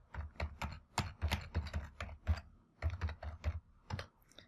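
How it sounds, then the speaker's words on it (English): Typing on a computer keyboard, close and quiet, in quick irregular bursts of clicking keystrokes with brief pauses, no voices over it. "the username to log into that SMTP email server."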